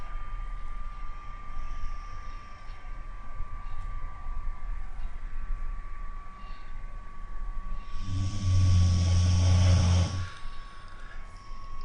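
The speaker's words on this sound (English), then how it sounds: "If you can hear some snoring in the background, by the way, that's my dog." A low, rumbling snore swells for a couple of seconds near the end, heard over a steady electrical hum and faint room noise.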